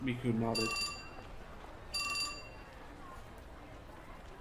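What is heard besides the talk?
phone email notification chime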